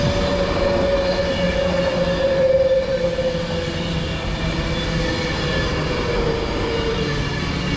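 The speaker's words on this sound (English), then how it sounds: "arriving in now is going to be the 1040 Avanti West Coast service from Wolverhampton to London Euston" An Avanti West Coast passenger train pulls into Birmingham International station on the West Coast Main Line, a loud steady rumble of wheels and carriages with a thin squeal rising briefly before easing off.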